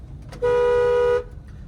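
A single steady car horn blast in a narrow street before a right turn, loud and close, lasting under a second, with quiet background before and after.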